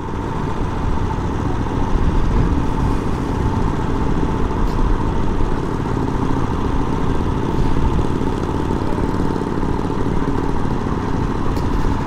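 A Harley Sportster Evolution motorcycle riding along the Reeperbahn in Hamburg during Harley Days, a steady, loud engine rumble throughout with no break and no talk.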